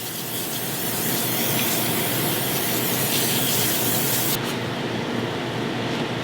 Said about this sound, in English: I want to spray it with some spray oil.